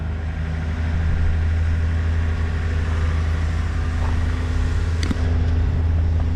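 A truck engine idling up close, a loud, steady low rumble with an even throb that runs unbroken throughout, with a faint brief clank near the end and no talking.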